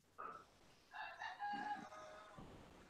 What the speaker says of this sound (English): Somebody's got a rooster crowing in the background.